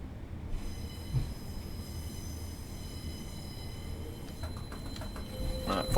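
A Class 142 train on the West Coast Main Line over Shap in Train Simulator Classic, running on rails with a steady low rumble of wheels throughout and a louder clatter building near the end.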